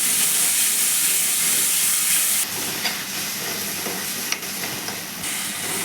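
Spice masala fries in a pan with a steady, loud sizzle and hiss, broken by occasional scraping stirs, and no voices heard.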